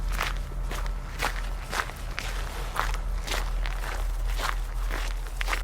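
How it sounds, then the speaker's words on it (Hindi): Footsteps walking at night, as a horror story sound effect: evenly spaced crunchy steps repeat at a steady walking pace over a low background hum, with no talk. "उस अंधेरी और आधी रात में सिद्धार्थ चलता जा रहा था"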